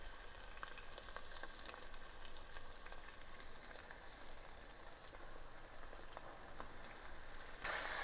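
Breaded venison frying in a hot pan, a faint, steady crackling sizzle with scattered small pops throughout, heard alone with no voices.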